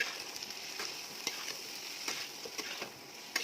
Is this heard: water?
no